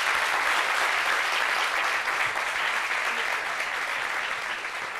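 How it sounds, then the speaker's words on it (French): A studio audience applauds a guest arriving on a French television set, a dense, sustained roar of clapping that stays loud and even before slowly easing off. "On l'applaudit, s'il vous plaît."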